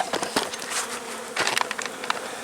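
Honeybees buzz around an opened hive during an early spring inspection, a close swarm of whining wingbeats with individual bees darting past the microphone in quick passes.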